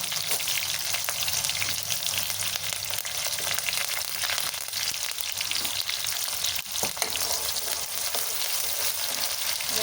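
Garlic, curry leaves and onion frying in a pan with cinnamon and cloves for vangibath, a dense continuous sizzle and crackle held close throughout with no talking.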